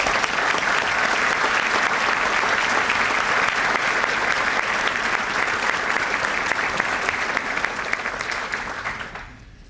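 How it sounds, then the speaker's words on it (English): Sustained applause from an audience at a St. Paul police awards ceremony honoring officer investigators, a dense steady wash of many hands clapping alone for about nine seconds before tapering off at the end. "So let's give them a round of applause."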